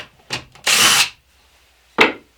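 A power drill whirs close up in three short bursts while backing out the screws holding a panel, with brief gaps and a longer pause before the last burst; no voices.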